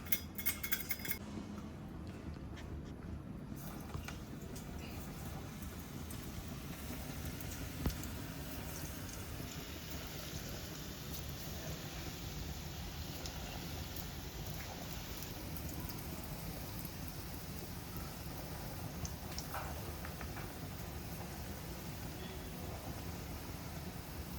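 Gujarati gota fritters frying in oil, a steady close sizzling crackle like light rain that runs evenly throughout with a few faint utensil clinks, no talking.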